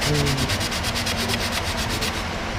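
Rhythmic sanding scrapes back and forth across a freshly drilled mudguard on a Honda Wave 125 motorcycle, about a dozen quick, even strokes close by with a steady grinding hiss.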